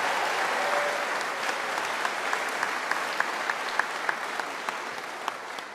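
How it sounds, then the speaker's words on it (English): Audience applause for school board directors at a high school graduation ceremony, a steady wash of clapping from a large crowd with a few sharper nearby claps standing out. "Please give them a round of applause."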